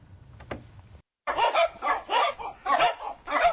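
Dogs bark repeatedly in a steady series of five or six loud, close barks, following a brief quieter moment with a single sharp knock.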